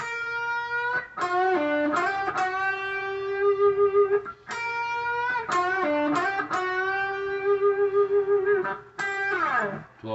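Electric guitar lick with slides, a half-step string bend and vibrato on sustained notes, played cleanly and close with several distinct phrases and a pitch dip at the end.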